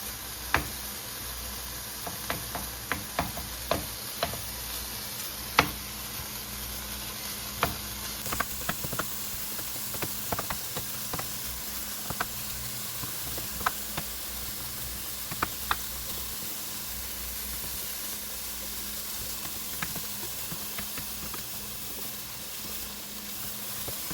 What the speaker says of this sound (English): it's been about 3 minutes and it's sizzling now